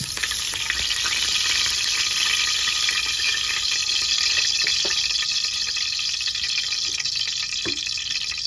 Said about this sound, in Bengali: কড়াইটাও গরম হয়ে গেছে। তেল দিয়ে দিব।